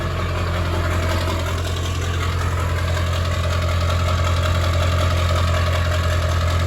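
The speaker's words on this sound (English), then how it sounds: "She actually sounds like a diesel truck now" Ford OBS Powerstroke diesel truck with a new 5-inch exhaust idling steadily, a loud, close, continuous low rumble with a faint knocking clatter throughout and no talk.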